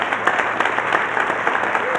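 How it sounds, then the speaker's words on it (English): Keynote audience at a Colorado opioid abatement conference breaks into steady, dense applause, a continuous wash of many hands clapping that holds evenly for the whole stretch with no voices rising above it. "I want you to give a round of applause for getting here"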